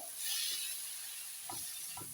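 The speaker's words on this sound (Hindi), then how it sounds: "ये देखिए मेरा मसाला भून चुका है।" Masala spices fry in a pan for a rohu fish curry, giving a steady bright sizzle with a few soft stirring scrapes and clacks of a spoon against the pan, close and alone.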